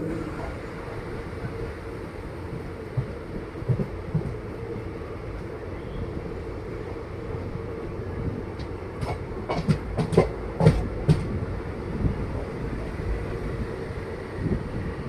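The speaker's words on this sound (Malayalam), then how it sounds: "തിരുപ്പതിയിലെത്തുന്ന ഈ കോയമ്പത്തൂർ തിരുപ്പതി ഇന്റർസിറ്റി ട്രെയിൻ" A Coimbatore–Tirupati intercity train runs with a steady low rumble and rolling clatter, and a few sharper clacks of wheels over rail joints come near the end, with no talk.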